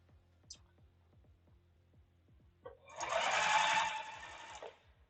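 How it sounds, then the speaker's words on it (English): Quiet, rapid mechanical ticking, then a sewing machine whirs into a steady, loud stitching run for about two seconds before slowing and stopping. "this sewing machine is a new sewing machine to me"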